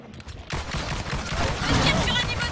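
Rapid gunfire from the Evolve video game fills the clip, loud and continuous after a brief quieter start, a dense rattle of shots with a muffled game voice faintly underneath.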